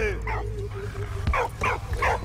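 Dog yipping and barking in the World War I video game Valiant Hearts, several short bursts over a steady low game hum, fairly close and moderately loud, with a brief thump between them.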